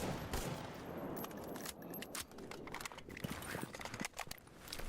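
Rapid bursts of video game gunfire in RE:DONE GAMMA crackle as distant, irregular volleys of sharp shots, fairly faint, with scattered louder cracks toward the end.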